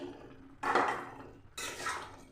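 Fried eggs dropped into ridge gourd cooking in a pan: two soft splashy thumps with a brief sizzling hiss after each, close and fairly quiet, no talking.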